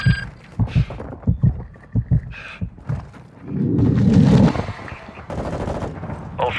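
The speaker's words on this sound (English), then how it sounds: "You are taking effective fire." Gunfire in the game Call of Duty Warzone on Ashika Island: heavy, thumping shots in an uneven string, then a louder rumbling burst and more scattered firing, close and punchy.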